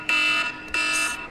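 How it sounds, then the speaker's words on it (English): Two loud electronic alarm tones in quick succession, each a steady high-pitched beep, ringing close by and alone with no talk over them. "sorry, that's my alarm."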